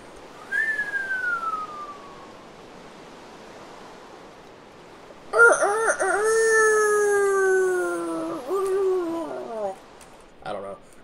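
A person imitates chicken noises with the voice. A brief whistled glide is followed, after a pause, by a long, loud, wavering, strained call that trails off into a few shorter sounds, all close to the mic.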